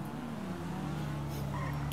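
A car drives steadily in Grand Theft Auto V, its engine holding a continuous, fairly loud drone with a slowly shifting pitch, while faint game sounds flicker in the background.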